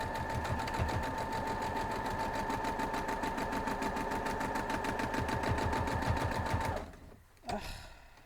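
A sewing machine runs steadily for about seven seconds, rapid even needle strokes stitching quilt block pieces for a paradox block, then stops abruptly, leaving a brief soft clunk in near silence.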